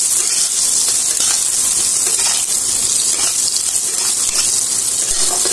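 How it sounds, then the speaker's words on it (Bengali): Potatoes seasoned with salt and turmeric fry in hot oil in a pan, a loud, continuous sizzle and hiss held steady throughout at close range. "আলুগুলো নুন হলুদ দিয়ে আলুগুলোকে ভেজে নিচ্ছি আমি"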